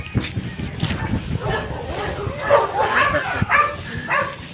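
A dog barks and yips in short bursts, mixed with people talking nearby.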